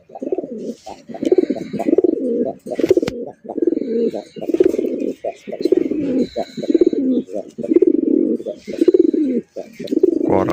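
Fancy pigeons coo in a steady series of deep, throaty calls repeating about once a second, close and clear, with faint voices and light clatter behind.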